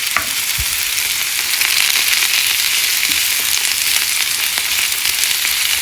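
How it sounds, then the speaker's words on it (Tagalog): Zucchini, onion and tomato sauté together in a single pan, giving a loud, steady, close sizzle with a few faint clicks and stirring touches throughout. "Ayan, gisa na natin ang zucchini."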